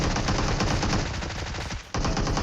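Rapid automatic gunfire in PUBG Mobile, a dense loud burst of shots in quick succession with a brief gap just before the end.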